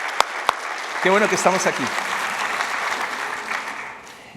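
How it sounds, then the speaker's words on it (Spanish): A church congregation gives a loud burst of applause, a steady wash of clapping that fades near the end while someone speaks over it. "¿Qué tal que les damos un fuerte aplauso a los que nos están viendo también?"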